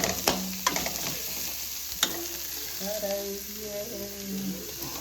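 Grated coconut frying in a pan for Mangalorean chicken sukka, a steady soft sizzle with a few sharp stirring scrapes and clicks, alongside some faint tonal humming or background voice.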